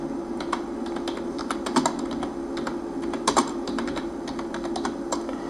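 Fingers tap on a computer keyboard while an online application form is filled in, with quiet, irregular clicks and a few brief quick bursts of keystrokes.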